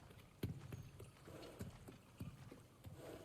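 A horse's hooves clip-clop at a slow, uneven walking pace in God of War Ragnarok, with several distinct thuds close by and at a quiet level, and no talking.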